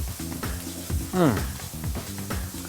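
Filet mignon steaks frying in a pan, a close steady sizzle with someone talking over it through most of the clip.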